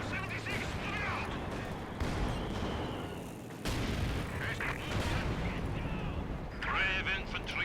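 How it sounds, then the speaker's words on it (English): Incoming mortar shells in a Company of Heroes 2 battle, with repeated booming impacts and bursts of gunfire under frequent game voices and chatter. "they have a lot of mortars coming in"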